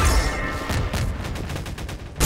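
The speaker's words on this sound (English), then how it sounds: "I'm being shot at from everywhere." Gunfire in the video game Garry's Mod during a sandbox battle against Combine forces, a loud, dense burst of rapid shots and booms.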